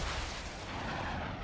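Heavy gunfire hits a player's plane in War Thunder as a dense, continuous roar of impacts and booms.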